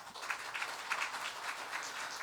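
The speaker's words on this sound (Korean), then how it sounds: "인사드릴 때 큰 박수 부탁드립니다" A church congregation at a Sunday service gives soft applause, with scattered hand claps forming a fairly quiet, even wash that sounds somewhat distant.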